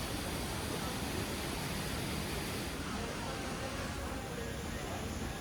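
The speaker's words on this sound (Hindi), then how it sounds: "आबशार के पानी की आवाज़" Waterfall water rushes beside Mahfel Restaurant in Bursa, a dense, constant roar that holds steady and loud from start to finish.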